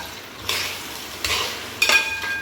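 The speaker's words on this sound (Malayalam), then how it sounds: "ആ നെയ്യും തേങ്ങാക്കൊത്തും ചട്ടിനൊക്കെ നന്നായി നെയ്യിനോട് കൂടി സെറ്റാവണം നന്നായി ഒന്ന് ഇളക്കുക" Ghee and coconut pieces sizzle in a pot on the stove while a utensil stirs them, with three scraping strokes and a light metallic clink over a steady frying hiss.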